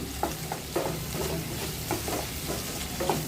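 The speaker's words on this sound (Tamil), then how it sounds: "இப்போ பாருங்கள் அத்திக்காய் வந்து நல்லா வதங்கிருக்கு" Fig pieces sautéing in a pan with a constant hiss of frying, under roughly eight rhythmic spatula scrapes and stirs at an even pace, close and moderately quiet, without speech.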